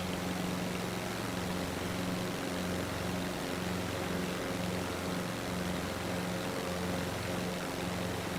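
A small propeller airplane cruises at about 128 knots, its engine droning steadily and loudly throughout, with a constant broadband roar and no talk.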